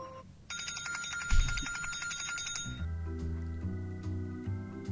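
A bright notification bell chime rings out in a quick metallic sequence, followed by a lower, steadier electronic tone pattern, loud and alone with no talking.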